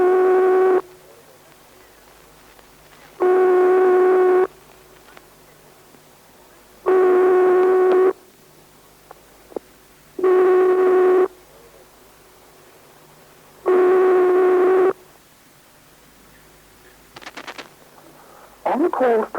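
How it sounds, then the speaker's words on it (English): Continental European telephone ringing tone from 1971, a steady buzzy tone in five long bursts of about 1.5 seconds each, separated by roughly 2-second silences, clear and alone on the line. "The ringing tone you will hear on most calls you dial to the continent is like this."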